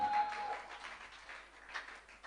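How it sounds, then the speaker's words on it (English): Applause from a student audience at a young entrepreneurs conference, a dense, steady patter of many hands clapping at moderate distance, fairly soft and continuous throughout. "Please clap for him."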